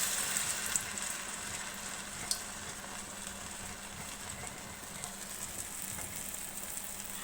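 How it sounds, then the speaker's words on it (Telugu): Vada batter made from mixed dal frying in hot oil, a steady broadband sizzle with a couple of faint pops, moderately loud and continuous with no talk. "ఓకే, మనకి ఆయిల్ కాగిపోయింది. ఇప్పుడు మనం వడలు వేసేసుకుందాం."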